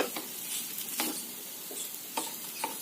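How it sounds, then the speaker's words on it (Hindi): Soybean and potato tikki fry in a pan on a medium flame, a soft, steady sizzle broken by several sharp stirring or turning scrapes. "अभी इसको दोनों तरफ से मीडियम फ्लेम पे गोल्डन ब्राउन होने तक पकाना है सो दैट ये अंदर से अच्छे से पक जाए।"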